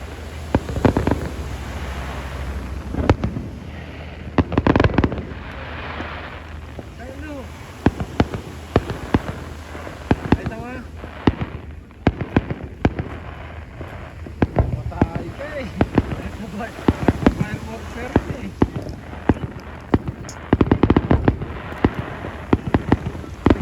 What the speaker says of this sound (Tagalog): Fireworks yan. Hindi akin.